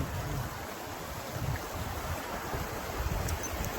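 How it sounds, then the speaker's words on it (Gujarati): A waterfall in the Dev Hatra hills of Gujarat pours down from above, heard as a steady broadband rush of water with wind noise across the microphone and no talking. "આ જુઓ ધોધ વયો આવે છે ઉપરથી"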